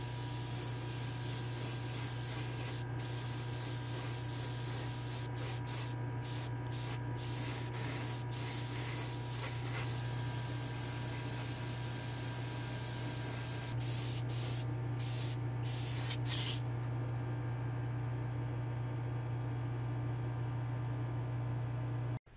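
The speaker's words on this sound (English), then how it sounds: "So let me head to the spray booth and we'll get this thing started." A spray gun applies white and silver paint to a 1969 Ford Mustang inside a spray booth, giving a loud continuous hiss broken by brief pauses as the trigger is released and pulled again.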